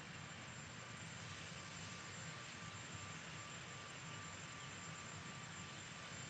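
A Sikorsky Marine One helicopter at the White House produces a faint, steady, distant turbine roar with a thin high whine, holding an even level throughout with no voices.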